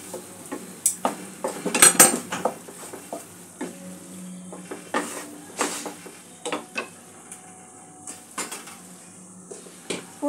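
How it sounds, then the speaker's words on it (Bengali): A spoon stirs and scrapes through Bengali pabda fish curry with green chillies in a pan, with irregular clinks and scrapes over a faint sizzle, close and moderately loud. "সব কিছু একটু মিক্স করে নেব।"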